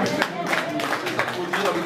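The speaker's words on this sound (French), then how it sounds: "Ils applaudissent avec une magnifique qualité" Audience of regulars at a summer car rally at Château de Couffoulens in the Aude clap steadily, a dense continuous patter of hands close by, with voices mixed in.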